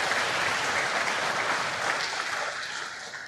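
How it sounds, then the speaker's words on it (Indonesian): A church congregation applauding during a sermon, a dense steady wash of many hands clapping together that holds for several seconds and tapers slightly toward the end. "Berikan tepuk tangan buat Loso Sahat."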